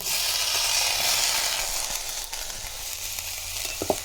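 Vegetables, including val beans, brinjal and potato, sizzle and fry steadily in masala in a hot pan, with occasional soft scrapes of stirring near the end.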